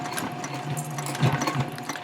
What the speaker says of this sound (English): Now I'm actually sewing where the side of the bag is.